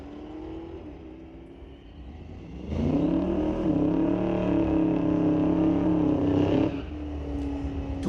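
A 2023 Corvette from Preston Chevy runs down a drag strip on street legal night, a low engine drone jumping to a loud, steady roar midway and then easing off near the end.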